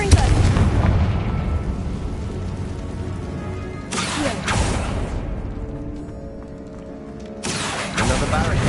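The Confringo blasting spell fires off repeatedly in a video game, heavy booming explosions with crackling bursts that recur every few seconds, loud and close, with speech partly mixed in.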